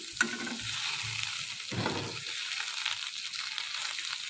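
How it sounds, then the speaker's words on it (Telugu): Ivy gourd pieces fry in a pan over medium heat, a close, steady sizzle broken by a few scraping stirs of a spatula, with no voices. "దొండకాయ ముక్కలు అయితే ఇలా వేగిపోయాయి"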